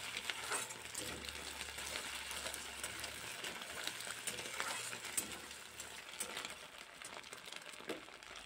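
Two eggs frying in hot oil in a wok give off a faint, crackling sizzle with light, irregular spits and pops throughout, with no voices.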